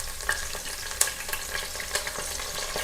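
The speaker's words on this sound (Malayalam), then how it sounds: "ഓക്കെ, നന്നായിട്ടൊന്ന് വഴറ്റി കൊടുക്കുക." Ginger, garlic, dried chili and curry leaves sauté in hot oil for a pickle, giving a constant close sizzle broken by the scrape and clack of stirring.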